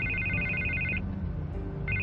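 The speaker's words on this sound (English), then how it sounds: "I can't get the phone to stop ringing" A telephone rings in the Telltale Batman video game, a steady electronic ring repeating in bursts that stop, then start again after a pause, with game sound underneath.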